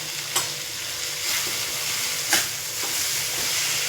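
Karatoli (spiny gourd) vegetable sizzling in a pan as chopped coriander goes in, a steady close hiss with a couple of sharp stirring scrapes, no voices.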